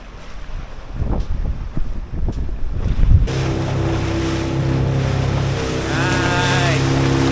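A boat engine drones steadily over wind and lapping water off an island in Jamaica, its low hum rising as the vessel draws near, with wind buffeting the microphone.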